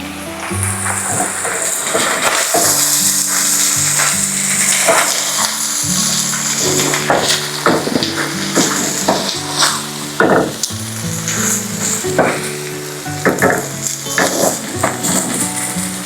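Corned beef frying in a pan for a Filipino breakfast, a steady close sizzle with scraping and mashing strokes. A low tonal music bed sits beneath, and there is no talk.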